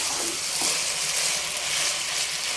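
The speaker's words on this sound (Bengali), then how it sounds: "এটা সুন্দরভাবে আমরা ভেজে নেবো হালকাভাবে" Boiled noodles fry lightly in a pan, giving a steady soft sizzle with faint stirring scrapes throughout, close and moderately quiet, with no talking.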